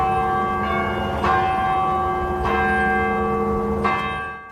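A large church bell rings three resonant strikes, evenly spaced, each ringing on with a long sustained hum that fades away at the end.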